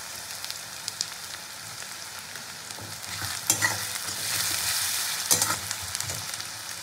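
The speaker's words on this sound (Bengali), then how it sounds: "পেঁয়াজটা ভাজতে ভাজতে এতে আমি পরিমাণ মতো লবণটা দিয়ে দেবো" Onions frying in a pan with salt added, stirred as they cook: a steady close sizzle with scraping stir strokes and small clatters, louder toward the middle, no voices.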